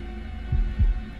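Two low, heavy heartbeat thumps in the horror game Man of Medan, set over a steady background hum.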